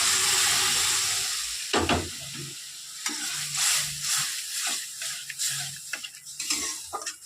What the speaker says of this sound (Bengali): নেড়ে চেড়ে নিয়ে কিছুক্ষণ ভেজে নিচ্ছি।